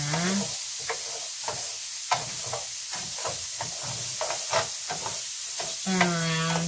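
Green chili ingredients sauté in a pan with a steady sizzle and hiss, while repeated soft scraping and stirring strokes come through at close range, and a voice briefly speaks at the start and end.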